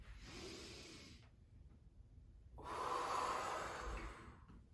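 Slow, deep breaths during a breathing exercise: a long airy exhale, a pause, then another full audible breath, close and soft with no talking.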